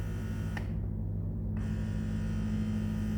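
A Crown electric breast pump runs at its lowest suction level with a steady low electric hum and a faint motor buzz, continuous and quiet with no talk.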